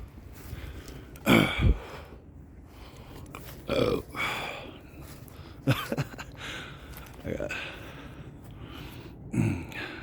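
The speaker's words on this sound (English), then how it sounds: "I be burping all the time" Several short, low guttural bursts, likely burps, spaced across the clip, with a voice mumbling faintly in the background.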